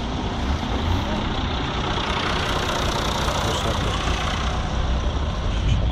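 Engines rumble past in light morning traffic near railway workshop staff housing in Sakarya, a dense, continuous drone of cars and larger vehicles that stays steady and loud throughout.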